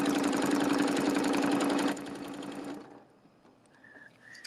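A sewing machine stitches a red, white and blue quilt with a steady, fast mechanical hum that slows and stops after about three seconds, followed by faint tones and quiet clicks.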